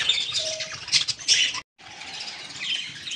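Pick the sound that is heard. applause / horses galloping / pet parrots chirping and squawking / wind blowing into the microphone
pet parrots chirping and squawking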